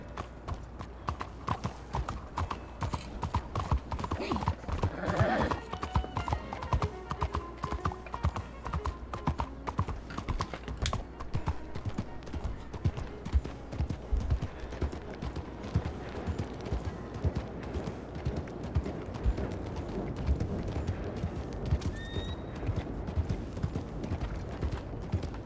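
Steady horse hooves clip-clop through a ride toward a wagon depot in the WildRP roleplay game, set in 1903, with rhythmic thuds continuing throughout at moderate loudness amid faint background ambience and occasional brief noises.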